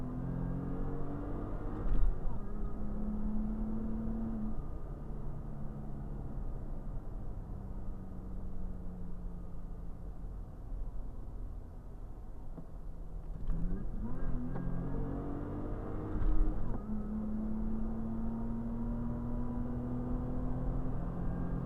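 A third-generation Toyota Tacoma with a Magnuson supercharger pulls steadily at highway speed, heard from inside as a low, continuous engine drone with a faint supercharger whine climbing through gear changes.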